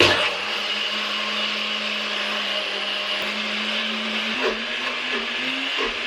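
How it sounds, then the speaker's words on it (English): A blender whirs through a black sesame latte, a loud steady motor drone with a sustained hum that shifts slightly in pitch as the mixture thickens, no voices. "I'm trying to get this to blend, you know?"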